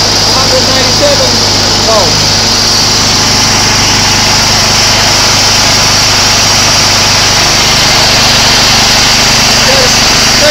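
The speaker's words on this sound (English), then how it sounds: "smart drive spinning at 500 RPM" A Fisher and Paykel SmartDrive washing machine motor spins steadily at 500 RPM, giving a loud, continuous whine and hum that stays unchanged throughout.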